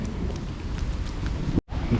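Steady rain in a park in Warsaw, Poland, a continuous close wash of drops and wind rumble across the microphone, briefly cutting out near the end.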